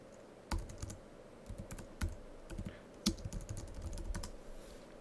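A Google search is typed on a computer keyboard in quiet, uneven bursts of close keystrokes with short pauses between them.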